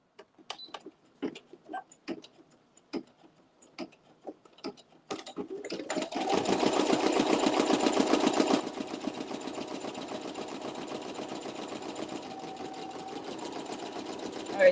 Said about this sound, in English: Now it's gonna do a satin stitch.